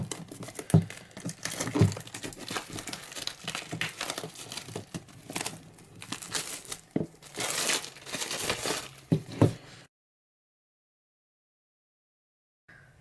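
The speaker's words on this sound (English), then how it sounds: "cut the plastic." Plastic wrap being cut and pulled off an iPad Pro 10.5-inch box, close crinkling and crackling with sharp rustles and pops in irregular bursts for about ten seconds, then silence.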